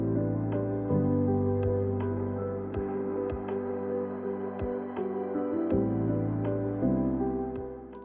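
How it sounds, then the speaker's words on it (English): A simple lo-fi hip-hop beat of kick, clap and rim shot with no hi-hats, sharp hits in a steady pattern over warm sustained low chords, without voices. "So all we have is a kick, a clap, and a rim shot."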